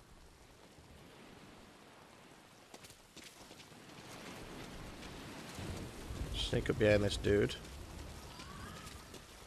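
Steady rain falls in Metal Gear Solid V: Ground Zeroes on PS4 as a continuous hiss, while someone talks over it for much of the stretch.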